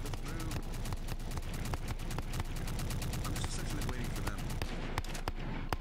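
Dense, continuous rapid gunfire from a video game shooting exercise, rattling bursts one on top of another, loud and sustained with no break.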